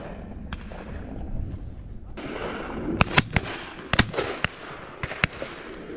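Shotgun shots on a driven game shoot at Warter Priory: a handful of sharp, fairly distant cracks at irregular intervals, some close together in pairs, over a steady outdoor background.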